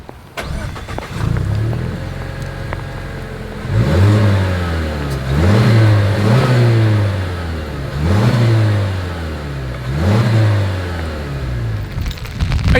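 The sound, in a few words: Mazda CX-50 engine revving through dual chrome-tipped exhaust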